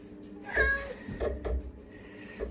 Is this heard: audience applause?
no